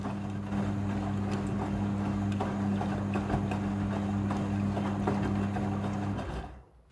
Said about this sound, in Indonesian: Jadi proses pemberian pewangi pakaian ini terjadi di pembilasan kedua secara otomatis oleh mesin cuci.